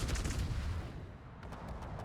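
Naval gun salvos in World of Warships operations, firing from the German battleship Mecklenburg, boom as a loud, dense burst of several shots, followed by a few fainter repeated reports near the end.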